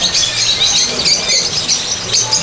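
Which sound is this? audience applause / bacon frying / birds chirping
birds chirping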